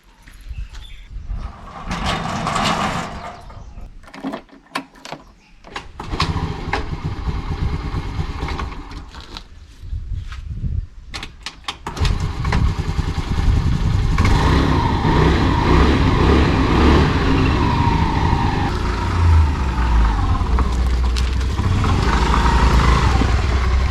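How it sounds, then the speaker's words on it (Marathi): A motorcycle engine catches after some clattering and starts up, then settles into a loud, steady running rumble close by. "चला, आता मी आपली बाईक चालू करतो"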